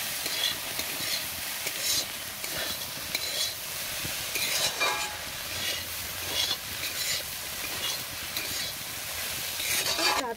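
Banana stem (thor) ghonto frying in a pan with ground chili added, stirred steadily: a continuous close sizzle broken by repeated scraping strokes of the spoon, with no talk.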